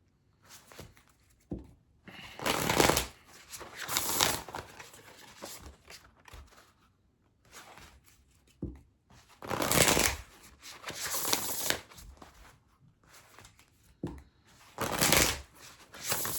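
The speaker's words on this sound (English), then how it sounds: "I'm going to pull an oracle card from the Earth and Bone Oracle" A deck of Earth and Bone oracle cards is shuffled by hand in several loud, close bursts of riffling and flicking, separated by short quiet gaps.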